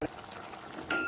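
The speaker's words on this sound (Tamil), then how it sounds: "ஊற்றி இப்போ நல்லா கலக்கி விடலாம்." A spoon stirs soya bean gravy in a pan, a soft scraping swirl of utensil against cookware close by, ending with a sharper clink.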